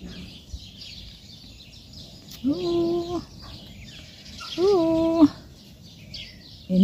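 Birds calling outdoors in Winssen, two clear drawn-out calls a couple of seconds apart over a soft background hiss, with a voice briefly heard.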